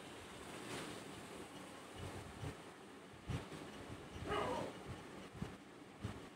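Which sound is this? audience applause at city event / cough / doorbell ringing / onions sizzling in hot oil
onions sizzling in hot oil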